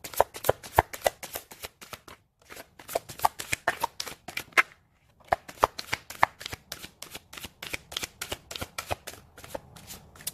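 Tarot cards being riffled and shuffled in quick repeated bursts of crisp snapping, with a couple of brief pauses between rounds, close up.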